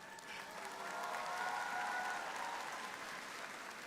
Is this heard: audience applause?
yes